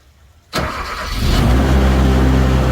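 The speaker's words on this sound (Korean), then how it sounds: "팬 켜지 말고 시동만 걸고" Small engine on a pest-control sprayer catching abruptly and settling into a loud steady idle, close by and alone.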